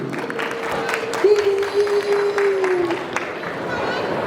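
Crowd at a stage panel discussion claps for panel members, scattered applause and crowd murmur under a loud sustained cheer or whoop in the middle, with voices mixed in.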